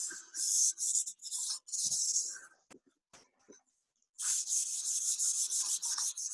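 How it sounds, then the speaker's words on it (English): Rag wiping pumice off a wood type block, with brisk repeated rubbing strokes, close and fairly loud, a pause with a few small taps, then another run of steady wiping. "we do a quick wipe with a dirty rag, and then a second wipe with a clean rag"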